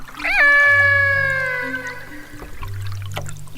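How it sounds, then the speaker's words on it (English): Tonal whistles with bending pitch over a low hum and faint watery clicks, orca calls recorded underwater by hydrophone. "I put down the hydrophone and made a recording and heard the following calls."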